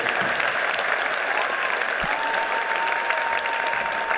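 Steady crowd applause rolls on at a basketball final, a broad, even wash of many people clapping, with a faint tonal whistle running beneath it.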